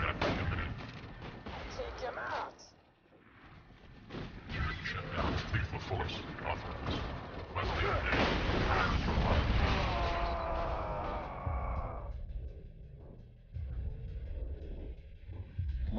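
Heavy gunfire and booming blasts in Borderlands 2, repeated loud shots layered with game effects over most of the stretch, fading toward the end.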